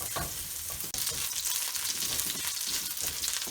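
Oil sizzles and crackles steadily in a 14-inch wok while aromatics fry for flavour, a dense close hiss with brief stirring knocks and one short break near the start.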